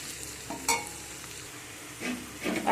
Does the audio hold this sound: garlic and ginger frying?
yes